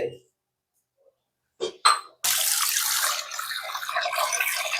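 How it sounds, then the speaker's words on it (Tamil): A couple of brief clinks, then running water swishes steadily against lentils in a container as they are rinsed, close and moderately loud. "இது ரெண்டையும் போட்டு நல்ல ஒரு அலசு அலசிட்டு"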